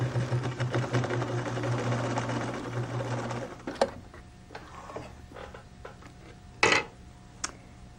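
A sewing machine hums steadily while stitching quilt patches, running for a few seconds before stopping, followed by scattered faint clicks and a sharp clatter of handling near the end.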